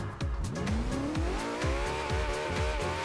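A car drifting in Forza Horizon 2 with a Napa Chassis pack car, tires squealing in repeated rising and falling skids over a loud revving engine, with no voices.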